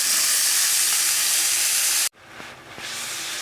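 Vegetables tipped into a hot pan for a prawn and fish roe curry: a loud, steady sizzle and hiss that cuts off abruptly, then resumes more softly with faint clinks as the food settles.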